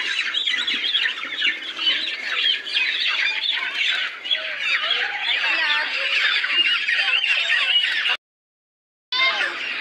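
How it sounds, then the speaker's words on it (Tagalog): A dense flock of chickens being loaded after harvest squawks and clucks continuously nearby, loud and agitated, with a brief silent gap near the end. "Ganun lang magkarga ng manok."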